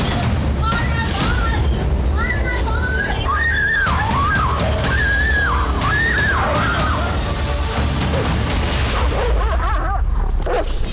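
Stray dogs barking and yelping in a residential housing society, busy and loud, mixed with whistling tones, whimpers and street noise, with voices in the background.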